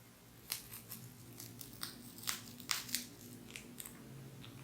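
Scissors snipping open double plastic packaging with a run of crisp, crackly cuts and crinkles, close and faint with no talking.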